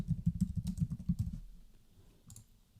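Rapid keystrokes on a computer keyboard while typing text into a design program, a dense run of close clicks that thins out and fades toward the end, with no voice.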